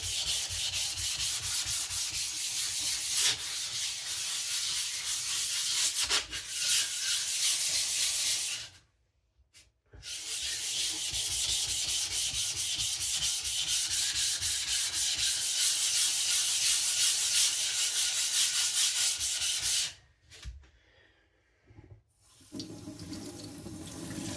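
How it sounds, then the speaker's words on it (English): A MagnaCut chef knife is sharpened, with continuous rhythmic rubbing and scraping strokes on a wet stone, close and steady, broken by two short pauses. "since I have the energy, I can sharpen this knife"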